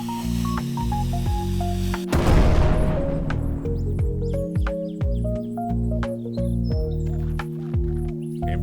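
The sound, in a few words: explosion in the video game Rosewater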